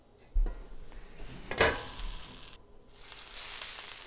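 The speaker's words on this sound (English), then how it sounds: "It'll steam and sizzle a little bit." A grilled cheese sandwich hits a hot pan with a burst of sizzling, then a soft steady hiss of steam builds and continues, fairly quiet and close.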